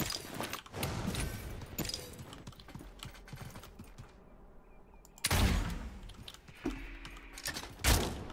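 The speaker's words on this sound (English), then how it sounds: "Are you guys shooting at someone or me?" Player gunfire in the fantasy battle royale Realm Royale, heard as rapid, close volleys of shots with a brief lull midway, then sharp renewed bursts, with no talking.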